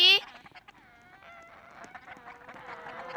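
A chicken clucks in a Roblox game, a short run of soft clucks that starts just after a brief loud burst and carries on faintly to the end.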